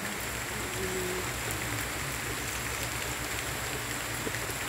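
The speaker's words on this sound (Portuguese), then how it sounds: "neste momento, graças a Deus, está dando uma chuva" Heavy rain falling steadily in the sertão of Limoeiro, Pernambuco, a dense even hiss of drops on surfaces with no voices, close and continuous throughout.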